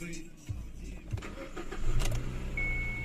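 A Kia Ceed car engine cranks and catches, then settles into a low, even idle up close, with a high electronic tone toward the end and someone talking over it.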